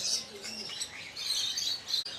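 Birds chirp and tweet from the aviary cages at Kankaria Zoo in Ahmedabad, a dense overlapping chorus of high, quick calls at moderate level, steady throughout with a brief dip near the end.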